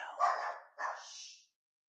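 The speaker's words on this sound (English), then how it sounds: "Dog just randomly starts barking." A dog gives two sharp barks close by, the second trailing off, then silence.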